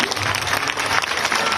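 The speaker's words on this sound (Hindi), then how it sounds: "आप ताली बजा के अपने मंत्री का स्वागत कीजिए।" Loud, close applause from an audience welcoming a minister at a public government event in Bhopal, with dense, steady clapping that fills the whole short burst.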